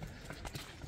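A two-year-old Anglo-Arab cross horse walking, its hooves clip-clopping in a steady close rhythm over a short stretch, with faint voices and outdoor noise behind.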